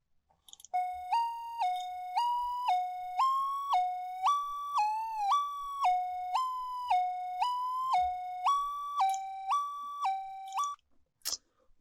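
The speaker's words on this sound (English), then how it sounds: "This just sounds like a siren." Synthesized siren made with vehicle sound design software, a clean electronic tone alternating evenly between two pitches in a steady wail-like pattern for about ten seconds, loud and alone before a brief click at the end.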